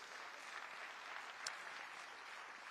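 Audience applause at an international financial leaders' investment summit, a dense continuous clapping from a crowd lasting a few seconds, with a brief sharp accent partway through.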